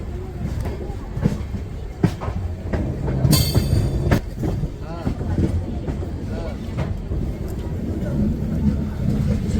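Yoga Express 19032 passenger train rolling along the rails, a continuous rumble with rhythmic wheel clatter and occasional squeal, heard from on board under low background chatter.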